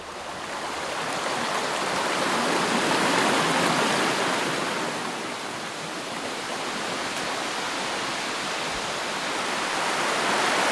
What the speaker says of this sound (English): Whenever I hear what sounds like a little waterfall trickling out, I can rarely resist checking it out